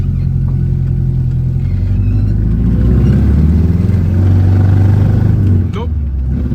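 A Triumph TR4A engine running rough runs close by with an uneven, pulsing low rumble, rising in a rev then dropping back, while someone talks over it.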